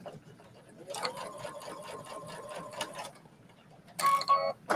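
A home sewing machine stitching a trench coat seam in two short runs, a quick steady mechanical whir of needle strokes for about two seconds, a pause, then a louder brief burst, close up.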